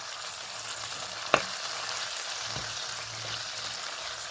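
Chopped tomatoes are stirred into a curry gravy frying in a pan, with a steady soft sizzle throughout and one sharp clink of a utensil against the pan near the start.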